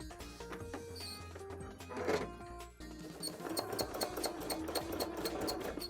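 Sewing machine stitching embroidery on a cosplay panel, a close mechanical whir with rapid needle chatter that pauses briefly and then resumes faster and louder, running steadily with no talk.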